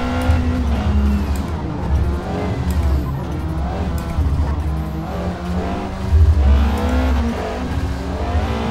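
A race car in Forza Motorsport 2023, driven with a PXN V10 wheel, roars through corners with a steady loud engine drone rising and falling, brief tire squeal and skidding mixed in, no voices.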